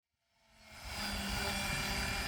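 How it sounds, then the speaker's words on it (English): A Tron Dnamic Pro 700-size RC helicopter's rotor whine rises from silence and holds steady at a close, constant drone. "I recently did a few demo flights at HeliFest with Eddie Thompson"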